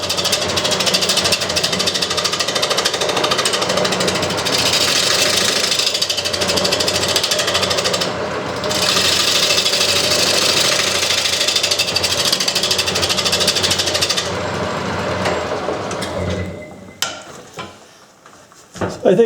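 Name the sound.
wood lathe turning a bowl with a heavy-duty scraper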